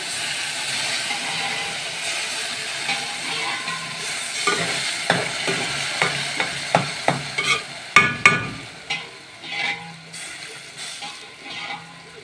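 Spoonfuls of broth hit browned vermicelli pasta in a hot pot, bursting into a series of sharp, loud sizzles that settle into a steady hiss of steam and bubbling.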